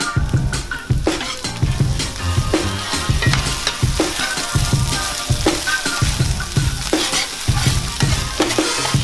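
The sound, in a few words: browning chorizo and sautéing peppers, shallots, mushrooms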